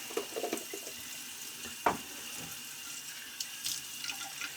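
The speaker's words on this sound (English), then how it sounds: "Getting a rinse." Water from a tap running into a sink during a shave rinse, a faint steady trickle with a few splashes and clinks, heard close and alone.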